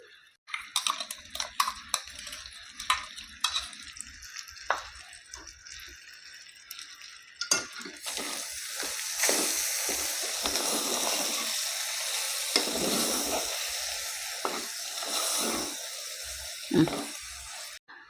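Masala paste and chilli powder fry in oil for a mutton curry, with loud sizzling and stirring bursts at first, then a steady, dense hiss that runs on for a long stretch.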